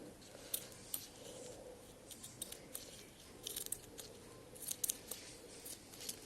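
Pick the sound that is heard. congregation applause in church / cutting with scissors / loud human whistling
cutting with scissors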